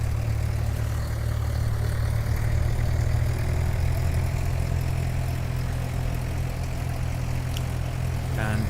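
Flysimware Sierra C24R single-engine aircraft in a flight simulator, sitting on the ground at high RPM, giving a steady, unbroken low engine drone and propeller hum throughout.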